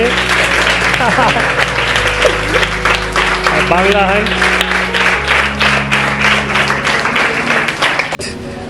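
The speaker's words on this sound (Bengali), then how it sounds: "বাচ্চারাকে আমি বলি জোরে হাততালি দাও দাদার জন্য, জোরে হাততালি" Children clap loudly together at a charity event for a children's home, a dense sustained wave of applause running throughout under an adult's voice speaking over it and background music, ending abruptly near the end.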